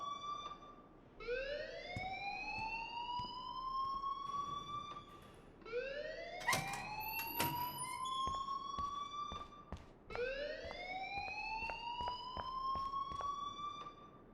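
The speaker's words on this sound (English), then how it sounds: "please turn off that alarm since that's your job" A wailing school alarm in the video game Life is Strange rises and falls in three long sweeping cycles, loud and continuous, with sharp clicks and bangs scattered over it.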